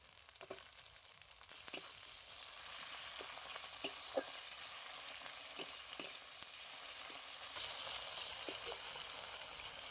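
Chopped tomato fries in a pan with ginger-garlic paste and onion for a rohu fish and potato curry: a soft, continuous sizzle broken by repeated light scrapes and taps of stirring, with no one talking.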